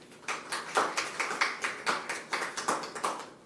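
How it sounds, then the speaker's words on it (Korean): A small group at a party nomination committee meeting claps in a steady, evenly spaced rhythm, about a dozen distinct claps, fairly close and moderately quiet, with no talk over them. "박수 좀 부탁합니다"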